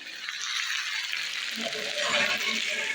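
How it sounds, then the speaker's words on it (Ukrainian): Steady hissing sizzle of onions and carrots frying in a pan until golden, close and continuous, with faint stirring scrapes partway through. "Піджарю трішки так до золотистого кольору"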